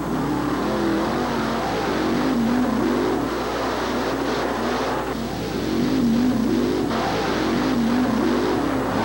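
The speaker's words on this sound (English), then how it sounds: "Get ready for the thrilling spectacle of truck and tractor pulling." Loud, continuous roar of heavy truck and tractor pulling engines straining at high revs at a 1987 Louisville, Kentucky event, a dense mechanical drone that rises and falls slightly throughout.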